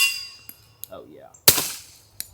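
A suppressed pistol fitted with a Rugged Obsidian 45 suppressor fires a single sharp, clipped shot at close range, followed by a distant metallic ping and a couple of fainter clanks.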